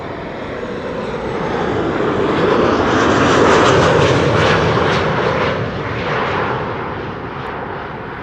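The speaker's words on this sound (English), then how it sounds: "Emirates A380 flying over Kagerplassen." An Emirates Airbus A380 passing overhead above the lakes at Kagerplassen with gear still up, a loud jet roar that swells to a peak mid-pass and then slowly recedes, no talking.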